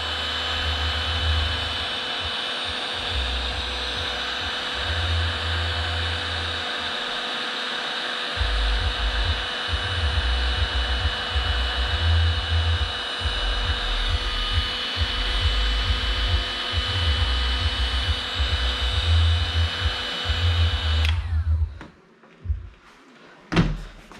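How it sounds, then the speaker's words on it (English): A heat gun blows a steady loud whooshing hum while shrinking heat-shrink tubing onto a cable end, with low pulsing rumble throughout, then cuts off abruptly, followed by a couple of knocks. "So what I'll do is heat shrink this one on here and then get another one and heat shrink onto the other side."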